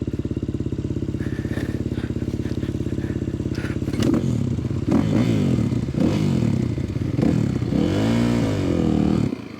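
Race motorbike ridden along an off-road ORV trail in Oscoda, Michigan, its engine droning steadily and loudly throughout, with revving surges, clatter and thumps from rough ground in the later part.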